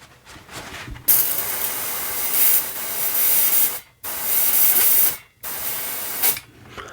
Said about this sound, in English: And this is blowing out the remaining alcohol from the inside.